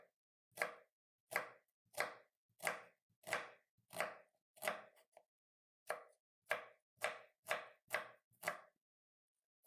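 Knife slicing through an onion on a cutting board, about a dozen crisp, evenly spaced cuts with a brief pause midway, close and clear in a quiet room with no voices.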